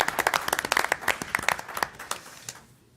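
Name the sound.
audience applause at a town council meeting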